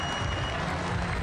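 Crowd applause at the Mangaung Oval in Bloemfontein for Temba Bavuma's innings in a one-day international against England, a steady broad wash of clapping and crowd noise throughout, moderately loud and distant.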